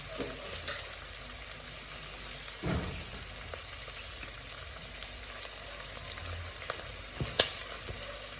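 Beef stir fry sizzles quietly and steadily in a pan as chili goes in, with a few light scrapes and taps of a utensil over the continuous frying hiss.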